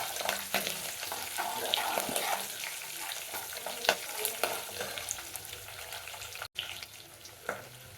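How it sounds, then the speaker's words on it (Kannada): Green chillies fry in hot oil for mango rice, giving a dense, continuous crackling sizzle with sharp spluttering pops scattered throughout, close up and fairly quiet. "ಹಸಿಮೆಣಸಿನ್ಕಾಯಿ ಹಾಕ್ಬೇಕಾದ್ರೆ ತುಂಬ ಹುಷಾರಾಗಿರ್ಬೇಕು, ಸಿಡಿಯುತ್ತೆ ಬೀಜ"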